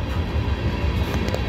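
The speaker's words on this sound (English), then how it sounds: "I think we might have the end of the train." The tail end of a CSX freight train on the old B&O mainline rumbles steadily past nearby. Wheels clatter over the rails beneath a continuous low roar, and no voices are heard.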